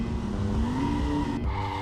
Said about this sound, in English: he lost control of the car and crashed down a large slope